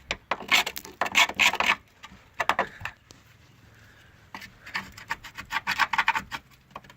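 Screwdriver scraping damp, failed underseal off the metal of a Subaru during restoration, close rasping strokes in uneven bursts separated by a quiet pause, with soft thuds in between.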